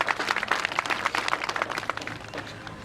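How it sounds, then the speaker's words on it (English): Dense, steady applause from an audience at the opening ceremony of the 15th International Conference of NELTA in Surkhet, with many overlapping claps that stay loud and then ease off slightly near the end. "I would like to honor them with big rounds of applause."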